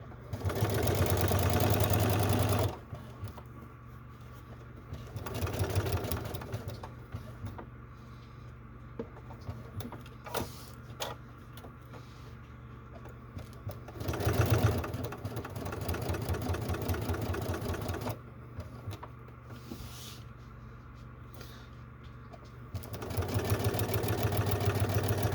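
A sewing machine runs in several bursts of back stitching through a clutch bag, a steady mid-pitched motor whir with short pauses between runs and no talking.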